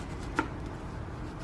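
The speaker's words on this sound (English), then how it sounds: "So I'm going to continue with slicing up my sweet potato." A knife slicing through a boiled sweet potato gives one short soft chop against a board over a low steady background hum.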